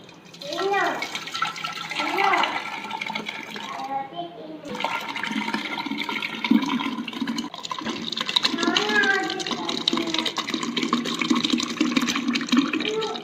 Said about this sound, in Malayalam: നമുക്ക് ഈ ഒരു ഭരണിയിലേക്ക് ഇത് ഒഴിച്ചു കൊടുക്കാം.